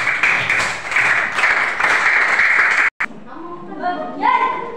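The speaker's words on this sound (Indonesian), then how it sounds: "Kita beri aplaus, tepuk tangan kepada kelompok 2 yang sudah dengan sangat baik." Classroom applause for a student group after its presentation, a few seconds of dense clapping that stops abruptly, followed by a teacher speaking.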